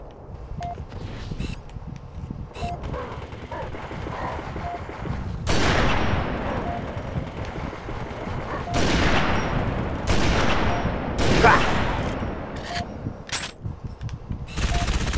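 Rapid bursts of automatic gunfire in Halo 3 ODST ring out over a steady game background, with several loud volleys spaced across the passage and small beeps in between.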